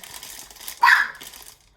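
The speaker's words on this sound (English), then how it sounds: "Her bark is so high." A single sharp, high-pitched dog bark rings out close by over a faint background of soft rustling.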